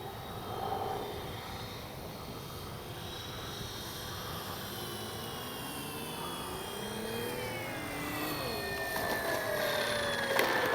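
A 1600mm FlightLine RC P-38 model airplane comes in to land with flaps down, its engines whining in a fairly faint, sustained drone that shifts pitch as it passes, rising slightly toward the end.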